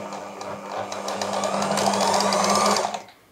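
Sewing machine stitching a line of fabric before attaching piping, a steady whirring run that builds slightly and stops near the end, close and alone.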